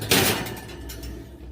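An oven door closes after a loaf of beer bread goes in to bake, one sharp close thump followed by a short ringing decay in a quiet kitchen.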